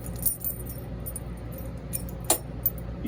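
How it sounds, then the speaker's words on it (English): A homemade crankbait lure with a spinner blade is shaken, its metal blade jingling against metal in a few bright, close clinks and rattles over a quiet background. "You hear the jingling."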